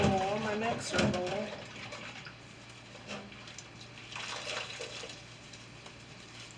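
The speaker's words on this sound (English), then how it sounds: "I'm ready to wash my bowl, my mixer bowl" A mixer bowl is washed under running water at a kitchen sink, a steady hiss of tap water with soft splashing and clinks, following a brief stretch of talk at the start.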